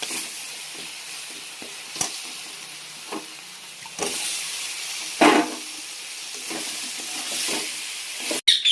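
Cauliflower sizzles in hot spiced oil in a pan, a steady close frying hiss with occasional stirring scrapes and sharper bursts of crackle.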